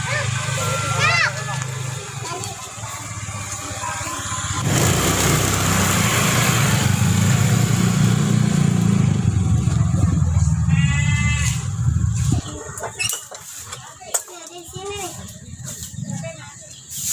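A motorcycle engine runs with a steady, rough drone for several seconds mid-clip, fairly close, then cuts off; voices and other sounds are heard before and after it.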